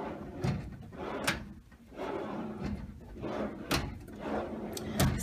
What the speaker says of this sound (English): let me turn sideways so you can see the drawers come out really far.